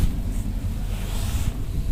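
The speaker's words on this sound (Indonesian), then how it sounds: "Angin semakin kencang ya," Strong wind roars and buffets steadily over open ground near a toll road construction area in Cicurug, Sukabumi, a loud continuous rumble with no voices.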